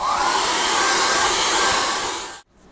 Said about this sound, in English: Now I'm just going to quickly dry this with a hairdryer.